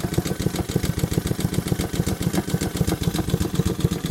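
A Honda HRR216 lawn mower engine runs at low throttle, a close, steady, rapid chugging putter with an even rhythmic beat throughout and no speech.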